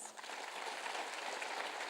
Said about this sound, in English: I think he certainly deserves a bigger round of applause.